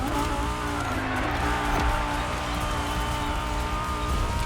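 Lamborghini Huracan Performante in forest green, tuned by Liberty Performance, braking hard in The Crew Motorfest, with a steady engine drone and tire squeal throughout, loud and continuous with no talking.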